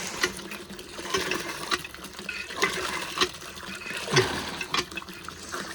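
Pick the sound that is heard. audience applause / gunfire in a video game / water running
water running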